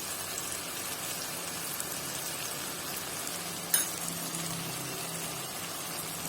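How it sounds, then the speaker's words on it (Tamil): Spices and chili powder sautéing in hot oil for mango pickle give a soft, steady sizzle and crackle, with one brief sharp tick partway through and no voices. "இதுவும் நல்லா எண்ணெயில் வதங்கணும்"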